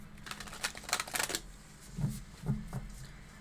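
Tarot cards being shuffled by hand in a quick burst of dense riffling, then a few separate soft card slaps and taps, close and fairly quiet, with no talking.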